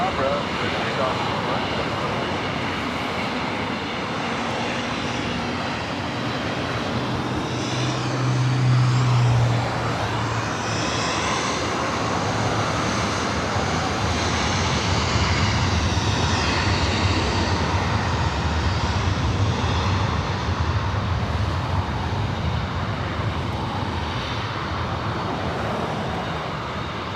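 A Delta airliner takes off from runway 24 right at LAX, its engine roar loud and sustained throughout, swelling slightly midway, with radio chatter and background traffic mixed in.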